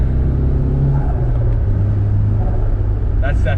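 A Nissan 180SX fitted with an S15 T28 turbo pulls hard in third gear, its loud, steady engine drone close and continuous throughout, with a brief higher whine near the end.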